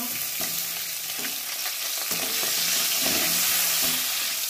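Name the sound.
crab legs frying in oil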